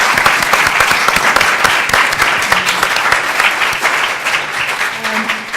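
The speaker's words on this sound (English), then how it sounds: "So if we give them a round of applause." A live audience applauds a panel at the close of a creative-industry talk event, a sustained dense wash of many hands clapping at steady loudness for several seconds with no speech over it.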